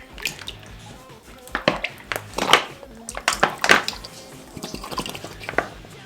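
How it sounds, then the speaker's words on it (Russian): A whole bottle of sunflower oil is poured into a deep pan, giving a close, wet glugging and splashing with uneven drips and surges that carry on throughout. "Выливаем в нее целую бутылку подсолнечного масла."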